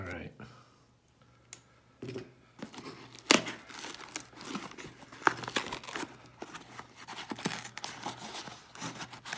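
Tearing and crinkling as a big, stuffed giveaway package is cut and ripped open up close, with sharp rips and rustling bursts throughout and a voice talking at times.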